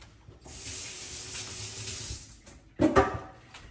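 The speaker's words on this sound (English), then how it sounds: "I'm going over to the sink, put my hands in cold water" Cold water runs from a sink tap over hands, a steady broadband hiss for about two seconds, then a brief louder splash near the end, close and alone with no talk.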